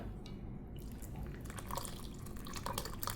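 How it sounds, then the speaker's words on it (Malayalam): Water poured from a pot into a mixer jar holding grated coconut, a faint, close splashing and dripping trickle that builds slightly toward the end. "അതിലോട്ട് ശകലം വെള്ളം ഒഴിച്ചിട്ട് ഞാൻ ഇതിനകത്തോട്ട് ഒഴിച്ചു കൊടുക്കുകയാണ്"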